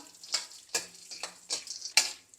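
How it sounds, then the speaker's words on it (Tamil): Peanuts frying in ghee in a pan, heard as a few separate bursts of crackling sizzle and stirring scrapes spaced about half a second apart, close up, with quieter gaps between. "இருந்தாலும் கொஞ்சம் நெய்யில் ஃப்ரை பண்ணுவோம்"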